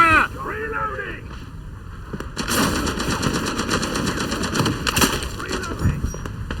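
Loud, rapid bursts of suppressing machine gun fire in a WW1 Gallipoli battle video game, beginning after a brief shouted voice and continuing as dense, rattling gunfire with shot echoes throughout.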